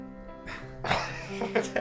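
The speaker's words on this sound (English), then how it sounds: "Clear my throat for this one." A person clears their throat several times in short, rough bursts, close to the microphone, following a brief hum.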